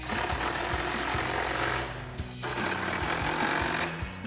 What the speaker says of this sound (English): Take our 13mm socket and tighten that down.